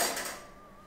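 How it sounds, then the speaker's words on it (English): A single metallic clatter of cutlery knocked about on a sink by a cat, a bright clink that rings briefly and decays over under a second. "And apparently the cutlery noises of a cat on the sink."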